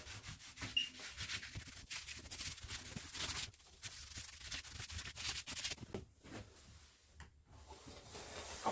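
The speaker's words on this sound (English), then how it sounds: "with a wet cloth, I'll just clean all the glue off." Wet cloth rubbing glue off a clamped wooden keepsake box, heard as quiet, close, irregular wiping and scrubbing strokes with small knocks and pauses.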